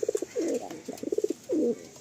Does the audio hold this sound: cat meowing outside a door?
no